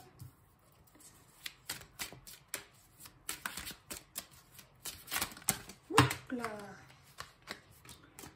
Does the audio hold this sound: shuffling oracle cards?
yes